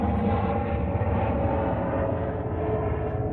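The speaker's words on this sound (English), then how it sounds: "Where's that helicopter?" A helicopter drones loudly overhead, a steady dense rotor and engine rumble with a faint pulsing texture, with no talking.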